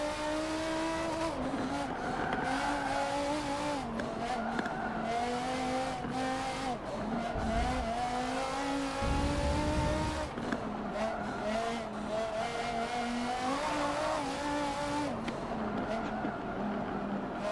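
GTA Spano hypercar racing in Forza Motorsport 7, its engine droning steadily with rising and falling revs through gear changes, brief tire squeal, loud and close throughout.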